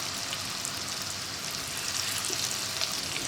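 Paneer pieces frying in a generous amount of hot oil, a steady close sizzle with faint crackles and pops, and no talk.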